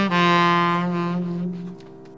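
A short melodic phrase of bright notes from an F dominant pentatonic scale plays over a held low note, clear and close, fading out after about two seconds.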